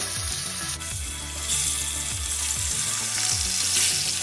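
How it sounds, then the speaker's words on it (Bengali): Pomfret fish fry in hot mustard oil in a frying pan, producing a dense, continuous sizzle close up, with a few soft knocks and clinks from the pan underneath and no speech. "এইবারে পমফ্রেট মাছগুলো আস্তে আস্তে দিয়ে দেব"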